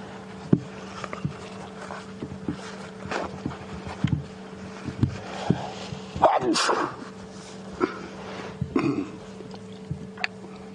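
A single sharp sneeze bursts out midway through a noisy scene on a live safari drive with a steady hum, with a few other short knocks and clicks scattered around it.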